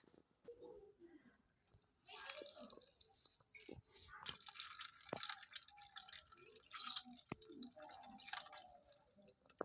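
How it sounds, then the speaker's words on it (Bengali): Water is poured over puffed rice with lemon in a bowl. Soft splashing and dripping trickles come in uneven bursts, close and fairly faint. "একটু বেশি করেই জল দিলাম।"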